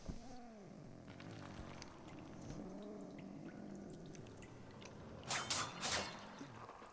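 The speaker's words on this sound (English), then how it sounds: "my cat just walked in my room" A domestic cat in a quiet room gives soft purring and low vocal murmurs, with a few brief louder rustling bursts near the end.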